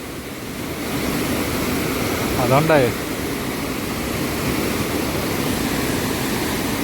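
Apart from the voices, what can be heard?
waterfall in the Himalayas on a trek to Yulla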